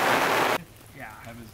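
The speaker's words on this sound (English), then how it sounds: "But this is a lot of rain." A dense wash of heavy rain roars for a moment while overlanding in Northern Arizona, then cuts off abruptly, leaving quiet background with faint voices.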